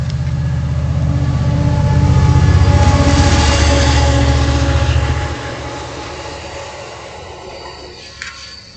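A train passing nearby, a loud rumbling roar with rhythmic wheel clatter that swells, then fades after about five seconds into a quieter receding rumble.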